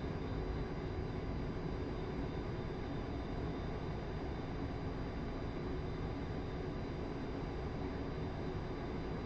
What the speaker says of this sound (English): Now you get a chance to perform an aerobatic sequence.